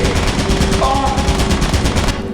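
Rapid automatic gunfire in the video game Lethal Company, a dense, loud continuous burst of shots with a steady rattling rhythm, close and alone for the whole stretch.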